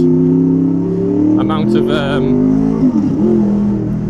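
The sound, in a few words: car engine revving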